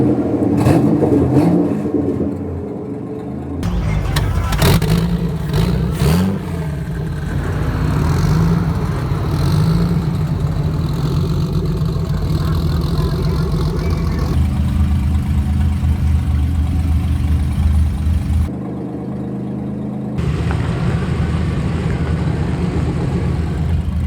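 A Barra car's engine revs hard on a track at Willowbank during an attempted skid, a loud sustained roar that surges and falls, drops out briefly, then returns.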